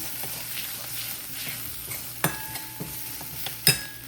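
Turmeric being stirred into the potato-less onion filling for street-style vada pav in a hot pan, a soft scraping and faint sizzle running throughout with a few sharp spoon clinks on the pan rim, close and alone.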